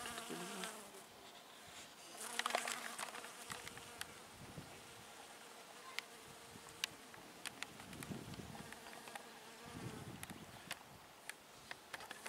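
A bee buzzes among garden flowers at a country dacha in Samara in May, its drone rising and fading as it moves near and away, with faint outdoor background and occasional small clicks.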